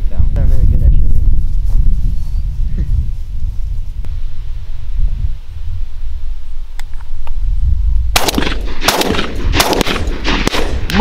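Gunshots ring out at a mourning dove opener hunt, a cluster of sharp, loud blasts arriving late in the field scene after a stretch of outdoor ambience, wind noise and people talking.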